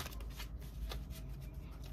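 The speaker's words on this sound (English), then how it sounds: "as you can see, shuffling up the cards for you" Tarot cards being shuffled by hand in a steady, papery riffling rustle that runs close and fairly quiet throughout, with no voices over it.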